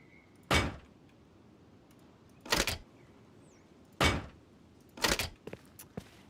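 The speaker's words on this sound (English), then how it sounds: "Once that's finished, you'll put your doors in." Doors being placed while building a starter base in the Rust console video game, heard as four separate heavy thunks spaced a couple of seconds apart, with a few smaller clicks near the end.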